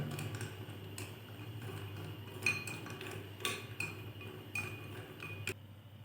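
A utensil stirs chocolate melting in a bowl set over boiling water, making faint, sparse clinks against the bowl above a low background hum.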